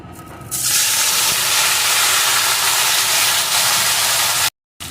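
Loud, steady sizzling hiss of cut taro stolons frying in hot oil, starting abruptly after a brief quieter moment and cutting out near the end.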